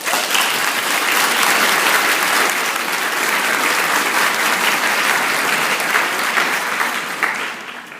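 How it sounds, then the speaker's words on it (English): Loud, sustained applause from a graduation audience honoring the graduates' parents, dense clapping steady for about eight seconds before thinning slightly at the end. "let's give our parents a huge round of applause"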